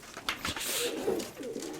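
Domestic pigeons coo at close range in a loft, a few soft, throaty coos running together over about two seconds with no talk.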